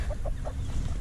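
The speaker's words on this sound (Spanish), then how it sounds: "la gallina BB Red, o alimonada, parece que les dicen algunos, con sus 7 pollitos" A BB Red, or lemon-colored, hen clucking beside her seven chicks, three or four soft rhythmic clucks over a steady rumbling background of farmyard noise.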